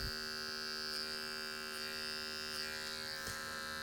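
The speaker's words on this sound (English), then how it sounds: "So now when we come back with our trimmer" An adjustable hair trimmer runs steadily during a low fade haircut, a constant close electric buzz with a few faint clicks and shifts as it moves against the hair, no speech.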